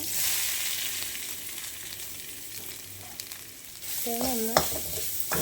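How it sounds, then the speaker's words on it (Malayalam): Grated coconut is stirred in a hot oiled pan for jackfruit-seed and spinach thoran, a soft continuous sizzle with scraping strokes, ending with a short voice-like tone and a sharp knock. "പച്ചമണം മാറുന്നത് വരെ ഒന്ന് ഇളക്കുക"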